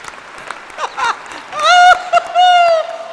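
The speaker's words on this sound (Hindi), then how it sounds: "दोनों हाथ उठा के तालियां एक बार वो" An audience at a Hindi comedy poetry recital applauds in short bursts, and a sustained, tonal vocal cheer or whoop rises over the clapping in the second half.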